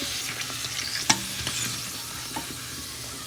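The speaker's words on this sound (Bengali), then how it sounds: "ফুচকাগুলো ভাজতে খুব ভালো লাগে" Fuchka puris frying in hot oil in a newly bought fryer, a steady close sizzle with small pops and a sharp crackle burst near the middle, no talking.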